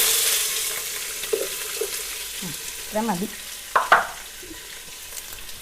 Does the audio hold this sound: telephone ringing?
no